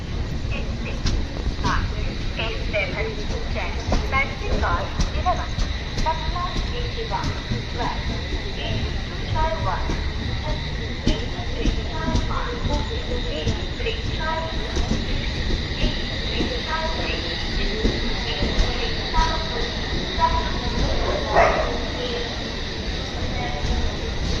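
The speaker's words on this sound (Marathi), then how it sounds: "रत्नागिरीवरून आता ट्रेन निघाली आहे" Konkan Kanya Express, train 20112, pulling out of Ratnagiri station on its run toward Mumbai, a steady low rumble of rolling stock with scattered clanks, under a continuous hum of crowd noise and occasional voices.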